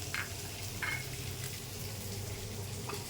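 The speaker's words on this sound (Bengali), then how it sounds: "কড়াইতে তেল ছিল, আর একটু দিলাম পেঁয়াজ রসুনটা" Onion and garlic frying in oil in a kadai wok while a fish curry is prepared: a soft, steady sizzle with a few brief stirring scrapes, fairly quiet throughout.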